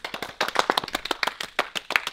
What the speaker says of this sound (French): On applaudit Vince.